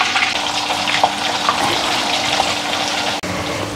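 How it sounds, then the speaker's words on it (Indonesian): Water pours steadily into a container to soak tofu in salt water in a home kitchen, a continuous close splashing stream with a brief break near the end. "Kita rendam dulu dengan air garam ya"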